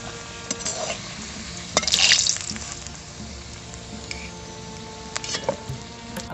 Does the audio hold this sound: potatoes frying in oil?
yes